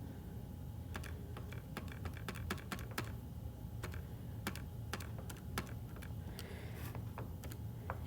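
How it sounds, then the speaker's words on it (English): Calculator keys are tapped to punch in a long arithmetic problem, making a quick, irregular run of crisp clicks close up over a low background rumble, with no speech. "I'm going to type this long problem into my calculator"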